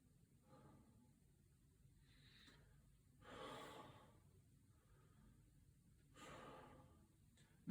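Slow, heavy breaths, two deep exhalations standing out loudly among quieter breathing, close to the microphone, with no talking.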